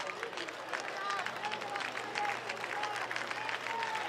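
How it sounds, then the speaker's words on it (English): Team USA fans clap in a steady rhythm at Holman Stadium during a collegiate baseball game against Japan, a dense, moderately loud patter from the stands that runs through the whole stretch over a hum of crowd noise. "Team USA fans here at Holman Stadium clapping rhythmically"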